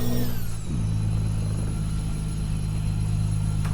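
A truck engine in American Truck Simulator drops in pitch as the gears change, then holds a loud, steady drone with a high whine, close and continuous with no talk.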